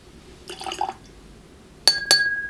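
Water is added to a glass of cask-strength Caol Ila 8-year-old Islay whisky: a short, soft trickle, then two bright, close glass clinks ringing in a quiet room.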